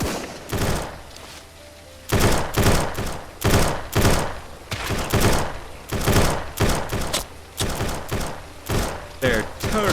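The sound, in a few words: bandits' gunfire in an open-world survival video game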